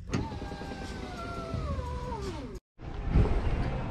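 A Ford Mustang's power window motor whirs with a drawn-out, falling squeal as the glass moves, stopping abruptly before a short burst of rustling and clunking; close and fairly quiet.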